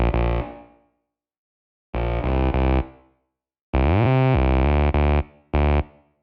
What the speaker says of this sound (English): Then I just have this little room reverb on there to put it in a little space.